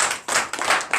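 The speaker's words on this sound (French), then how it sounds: "Donnez l'acclamation à la foi." Congregation clapping during a morning prayer service, a few distinct bursts of hand claps close by within a second, with no voices.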